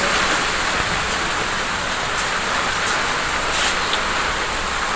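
Wind and rain during a rainstorm make a dense, steady hiss throughout, with a few faint brief ticks and gusts rising above the constant wash.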